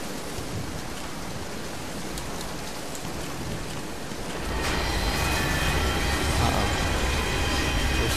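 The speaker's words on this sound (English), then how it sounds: "Now I've got a storm to deal with." Steady rain pours in the Dead Island Riptide video game, a dense hiss that swells louder partway through and keeps going as a broad, unbroken wash.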